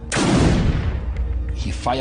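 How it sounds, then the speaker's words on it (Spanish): A single gunshot fired into the air gives a loud, sharp blast with a long, ragged decay. A faint voice follows near the end. "Disparó una bala al aire y me hizo valiente."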